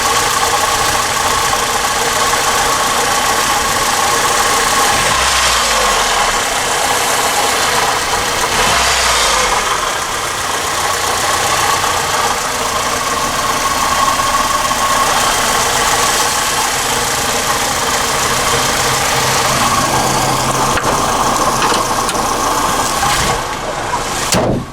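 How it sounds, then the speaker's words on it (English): Honda Accord engine running with a metallic tapping, a steady mid-pitched hum with faint rapid ticking throughout, heard close and continuous for the whole stretch without talk. "that kind of like metallic tapping sound"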